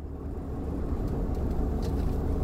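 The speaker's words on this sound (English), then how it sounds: "I don't need every car driving by" Traffic on a road during a police-style motorcycle escort, a steady low engine and tyre rumble from passing vehicles that grows slightly louder, with no voices.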